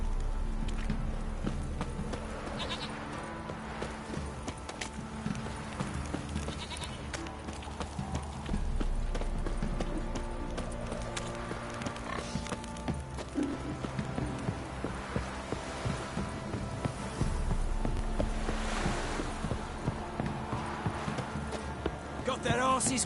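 Horses' hooves clip-clop steadily through the Witcher 3 video game, a rhythmic plodding beat running continuously over a droning musical and ambient background, with occasional neighs and voices in the game.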